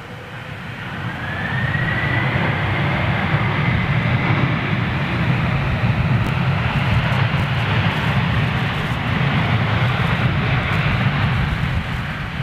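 Boeing 767 at London Gatwick with its jet engines building to a loud, steady roar as it reverses thrust, heard from a distance, with a faint whine rising early on and no talking.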